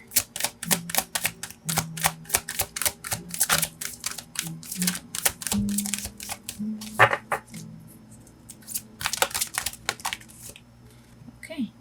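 Oracle cards are shuffled by hand, producing a rapid series of crisp, flicking riffles and soft rustles that come in bursts close to the mic, with a voice talking at intervals beneath.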